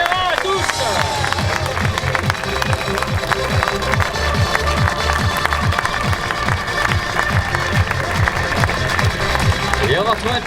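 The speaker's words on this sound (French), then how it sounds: "nous allons pouvoir vivre ensemble un tonnerre d'applaudissements" Crowd applause and rhythmic clapping at a long-distance triathlon award ceremony in the Jura, steady and sustained throughout, with a busy background of voices and cheering mixed in.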